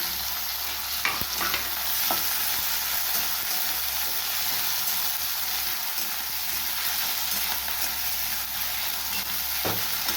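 Tomato and green chili fry in oil for pomfret jhal, with a dense, steady sizzle and hiss running throughout and a few sharp utensil clinks, close and constant.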